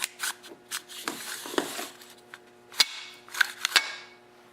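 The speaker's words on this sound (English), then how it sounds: "now when I let the pulley go, it's going to tighten up the rope automatically" A Briggs & Stratton snowblower starter rope snaps back onto its pulley as it recoils: a few sharp, close clicks and knocks over light handling noise, with no one speaking.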